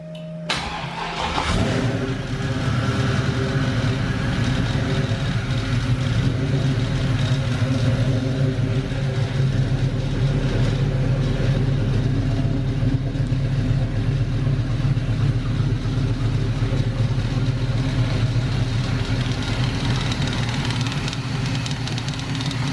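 An LS-swapped Camaro engine cranks and catches within the first two seconds, then settles into a loud, steady, rumbling idle that runs on alone for the rest of the clip.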